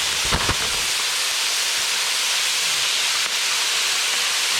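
Small pieces of bacon stir-frying in a pan at a campsite, a loud, steady high hiss of sizzling fat with a couple of brief clatters near the start, no voices.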